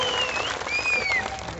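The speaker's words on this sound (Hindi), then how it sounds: "अब ऐसा है कि ये तालियां तो आप बजा रहे हो" A crowd at a Himachal election rally claps in a short, moderately loud burst lasting under two seconds, with a faint whistle-like tone riding over it.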